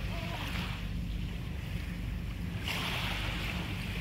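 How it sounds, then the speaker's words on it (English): Ocean waves wash steadily onto Alona Beach in Panglao, Bohol, Philippines, a continuous broadband surf roar mixed with wind buffeting the microphone, with a brighter surge of breaking water near the end and no voices. "the beautiful sound of these waves and nature"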